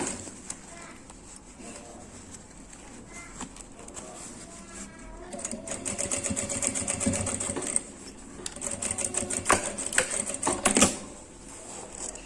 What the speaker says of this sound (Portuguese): Coloca o calcador bem no cantinho aqui e faz a costura.